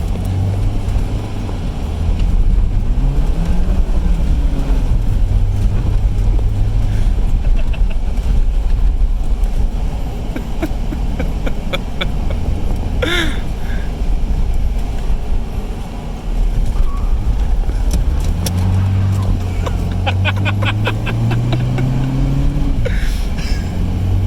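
A Suzuki X90 drives along with a steady, loud low engine drone and road rumble, the engine pitch rising and falling through gear changes near the start and again toward the end.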